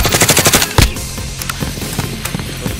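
Video game gunfire in an online shooter match: a rapid automatic burst opens loud and close, followed by a heavy shot and scattered, quieter single shots trailing off.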